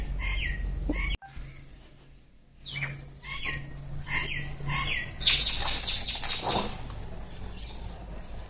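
Birds chirp and tweet in repeated short calls near a village house as they are fed, with some squawks and a sudden sharp clatter, growing busier toward the end.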